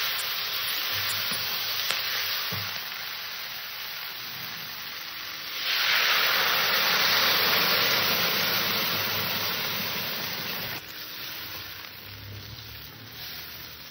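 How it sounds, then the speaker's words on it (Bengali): Curry sizzling and frying in a pan as it is stirred, a steady close hiss that swells louder midway through the stir, then settles back down. "একটু ঢাকনাটা খুলে একটু নাড়াচাড়া দিয়ে দেবো।"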